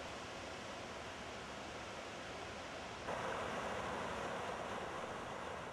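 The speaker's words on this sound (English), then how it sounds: "The River Tummel thunders along behind the town." The River Tummel rushing behind a Scottish town, a steady broadband roar of fast water that grows slightly louder partway through, with no voices.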